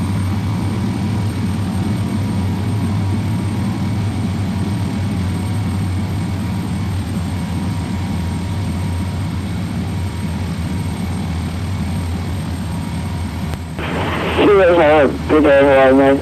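A simulated King Air turboprop keeps up a steady low engine drone as it slows on the runway after landing with reversers disengaged, and a short burst of voice chatter breaks in near the end.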